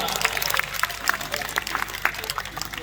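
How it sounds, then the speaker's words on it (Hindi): Audience clapping at an Akhil Bhartiya Kavi Sammelan poetry gathering in Beohari, steady moderately loud applause from many hands with uneven sharp claps throughout. "एक बे अपना जोरदार ताली बजाए दी"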